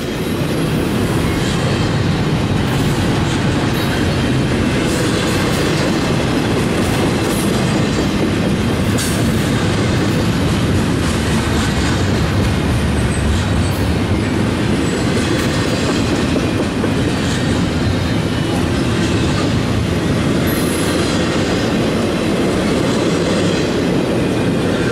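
An eastbound intermodal freight train carrying containers rolls past at night in Fostoria, Ohio, with a loud, constant roar of wheels, steady clatter and occasional high squeals, close by throughout.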